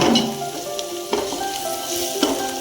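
Chili powder frying in hot oil for biryani gives a loud, close, continuous sizzle with a few soft stirring scrapes, and no voices.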